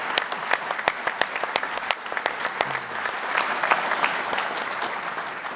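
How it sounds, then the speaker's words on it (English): Audience applause at a computer history museum talk, sharp individual claps building into a steady round that continues for several seconds, moderately distant in a hall. "won't you join me in giving Al Casso a round of applause for the wonderful restoration of the Alto?"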